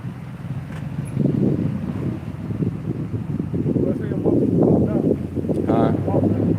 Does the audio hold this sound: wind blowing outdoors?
yes